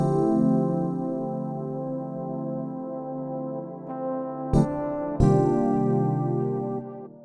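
Layered electric piano, soft pad and trombone synth patches from a 90s-style smooth jazz downtempo arrangement play sustained harmonic chords, with two brighter accented hits near the end and no voices.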